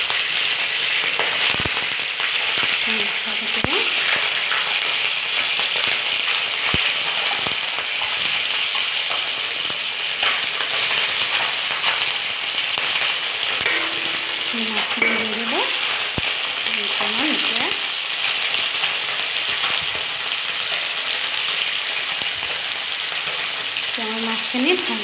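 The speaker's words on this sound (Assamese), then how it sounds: "মাছখিনি মই ভাজি আছোঁ।" Fish sizzles and crackles in hot oil in an iron wok, a loud, constant frying hiss with occasional stirring scrapes and brief quiet murmurs.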